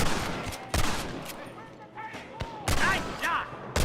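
Gunfire at rustlers in the video game Red Dead Redemption, several sharp shots cracking out at uneven intervals, loud and close, with voices talking between them.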